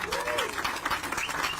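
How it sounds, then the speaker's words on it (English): Audience applause for contractor Jeff Shellman at a live Orlando public event, a short burst of clapping from a crowd with a voice heard over it. "I just want to give another round of applause to Jeff"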